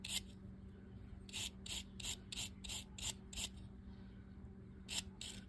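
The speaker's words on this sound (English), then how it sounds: "let's try my wire brush on it and see if it cleans it up" A wire brush scrubbing a pinion gear from an old Sears Roebuck fishing reel, a series of short raspy scraping strokes in a fairly regular rhythm, close but quiet.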